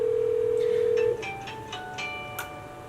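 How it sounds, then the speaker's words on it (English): An eSIP desk phone dials a number to connect: a steady dial tone cuts off after about a second, followed by a quick run of short keypad tones, close and clear. "Simply hit the dial number to connect to your party."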